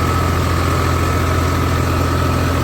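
Puddling a wet paddy field before rice transplanting, a tractor engine holds a loud, unbroken low rumble with a steady vibrating hum and no voices.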